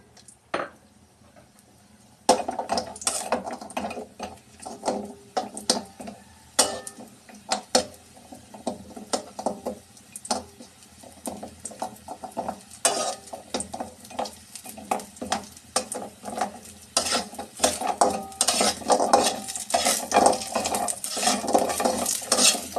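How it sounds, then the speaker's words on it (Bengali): Pumpkin vadi frying in mustard oil in a pan, stirred steadily: after a quiet start, close, irregular spatula scrapes and clatters on metal keep coming over a continuous sizzle. "এখন বড়িগুলো ভেজে নিব।"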